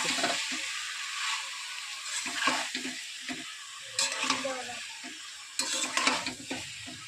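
Spices fry and hiss in a pan while being stirred, a close sizzle broken by irregular bursts of scraping and clattering utensil strokes, no voices present.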